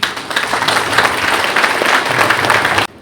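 A crowd at a business seminar applauds, loud dense clapping that is close and continuous for about three seconds before cutting off abruptly.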